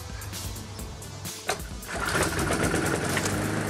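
A Briggs & Stratton lawn mower engine, one that previously would not start, runs close by after its carburetor is primed. It gives a steady, fast mechanical chatter that grows louder and fuller partway through, with no voices.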